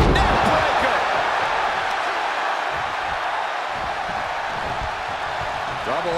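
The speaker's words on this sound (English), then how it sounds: "The sound of this crowd is deafening" A huge SummerSlam 2022 wrestling arena crowd roars continuously during the Roman Reigns versus Brock Lesnar match, a dense, loud wash of cheering with a commentator talking over it.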